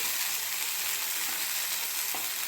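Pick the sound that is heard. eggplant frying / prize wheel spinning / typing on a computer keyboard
eggplant frying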